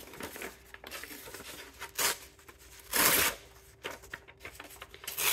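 Paper is torn by hand in short ripping bursts, several quick tears with brief pauses between, close and fairly quiet, with a faint steady hum underneath.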